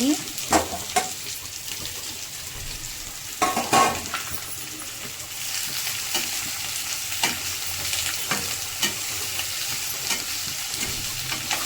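Onions with turmeric frying in a pan, a close, continuous hiss and crackle of sizzling oil with occasional scrapes and taps of a spatula stirring, fairly soft and steady throughout.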